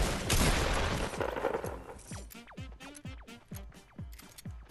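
Rapid gunfire in Fortnite, a dense burst of shots at first followed by a string of separate sharp cracks with short gaps between them, loud and close, with no talking.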